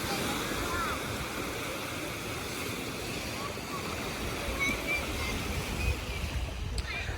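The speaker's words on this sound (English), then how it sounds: "There's a lot of waves coming in today." Wind-driven waves roll in on a river beach at a state park in Waddington, NY, a steady broad wash of surf with wind rumble on the microphone throughout.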